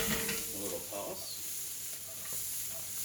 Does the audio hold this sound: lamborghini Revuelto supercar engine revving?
no